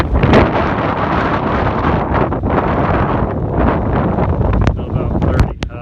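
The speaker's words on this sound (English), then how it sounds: "we had a 75 mile an hour wind gust just a while ago" Strong Hurricane Harvey wind gusts near the eye buffet the microphone in loud, continuous roaring bursts, with rustling and a few sharp knocks toward the end.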